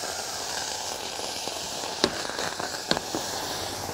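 Steady sizzling and bubbling of berries cooking with sugar and lemon juice in a pan, with occasional sharp pops and crackles, fairly quiet and close.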